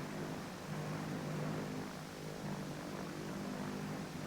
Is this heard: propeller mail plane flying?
yes